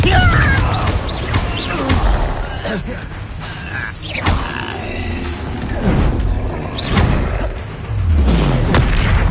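Confringo fire-blast spells explode during combat in the Hogwarts Legacy video game, loud booming blasts and rumbling crashes layered with mechanical clatter and grunts, dense and sustained across the whole stretch.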